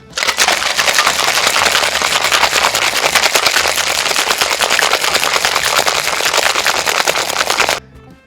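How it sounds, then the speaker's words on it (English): Ice rattles hard inside a cocktail shaker holding a Ramos Gin Fizz in a fast, loud, continuous clatter for several seconds, then stops abruptly. "Add ice to your shaker and then shake for another 12 seconds."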